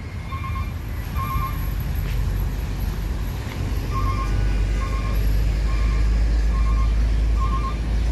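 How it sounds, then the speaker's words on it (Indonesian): Hino RN 285 tour buses parking, a deep idling engine rumble under a repeating pair of electronic reversing beeps that sound at regular intervals and grow heavier toward the end. "bus pariwisata Hino RN 285"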